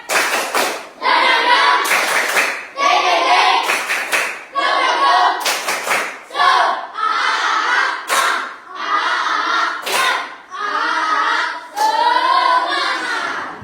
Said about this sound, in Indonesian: Buat kita tepuk semangatnya dulu. Tepuk semangat.